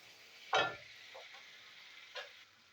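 Tomato sautéed with spices and a pinch of salt for ghugni gives off a soft, steady sizzle, broken by two brief clattering stirs, faint and close.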